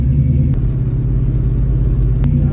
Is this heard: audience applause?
no